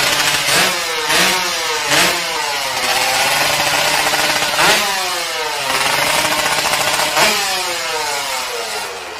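A two-stroke Yamaha 125Z drag motorcycle, a 150cc pro drag build, revs hard at a timed drag run in Kelantan: loud, close, repeated rising blips and sweeping revs over a buzzing, crackling idle.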